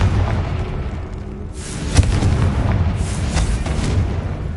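Confringo fire spell detonating in the video game Hogwarts Legacy, a deep booming blast with a crackling, rumbling tail over a continuous roaring game soundscape.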